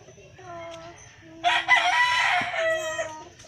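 A rooster crows once in the middle, loud and close, with faint background noise and low rumble before and after.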